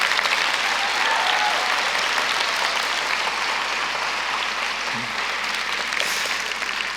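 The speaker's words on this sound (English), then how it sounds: "A round of applause, please, for all of our guests." A crowd at a feminist foreign policy conference claps steadily in sustained applause for guests, a dense wash of hand claps continuing without pause.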